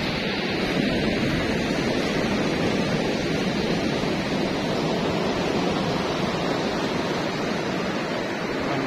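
Ocean waves break on a beach near a reef in a steady, loud broadband roar of surf that fills the whole stretch without pauses, with no voices over it.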